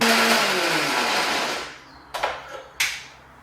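A mixer grinder blends green chilies, salt, grated coconut and turmeric into a paste: a loud whirring motor for about two seconds winds down and stops, then a few sharp clunks of the jar follow.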